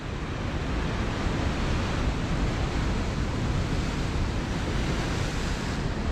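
Sea waves crash continuously onto a wild Scottish coast, a dense and steady roar of surf mixed with wind buffeting the microphone, close and loud with no voices.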